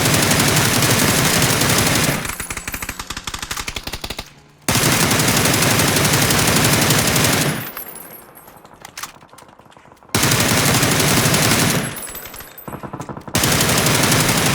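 Sustained automatic fire from a Beryl M762 assault rifle in PUBG, in three long loud bursts separated by short quieter gaps, close and dense with rapid repeated shots.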